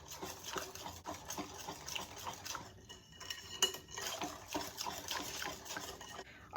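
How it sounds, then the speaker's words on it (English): Whisk clinking against a bowl while flour is beaten into lemon buttermilk pie filling, a quiet, steady run of light rhythmic metallic taps and scrapes with a short pause midway and a louder knock at the end. "We're going to whisk the flour in until it's well incorporated."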